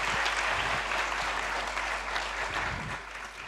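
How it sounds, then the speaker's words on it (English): Audience applause at an award ceremony, a dense, steady wash of many hands clapping that fades slightly toward the end. "Please, a huge round of applause again for Lalita."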